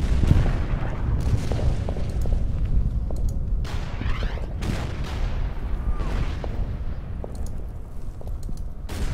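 Tank cannons and artillery firing in the Order of Battle strategy game, in a US Marines battle on Saipan: dense, overlapping booms and gunfire blasts roll continuously and loudly, with layered explosions throughout.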